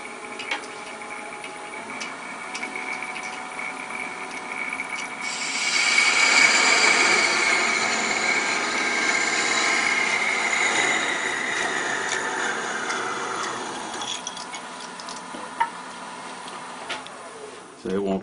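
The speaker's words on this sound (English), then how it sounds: "I'm going to go ahead and use a thin fluted parting tool." Thin fluted parting tool cutting into a wooden baby rattle on a lathe, a steady high whining buzz that swells partway through, holds for several seconds, then fades back to the lathe's quieter hum.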